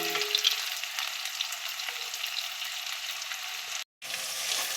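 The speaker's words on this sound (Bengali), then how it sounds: "তো গাইস দেখো, আমাদের পেঁয়াজ ভাজা ভাজা হয়ে গেছে।" Onions with green chillies sizzle steadily in a frying pan, a close, even hiss that drops out for a moment before resuming.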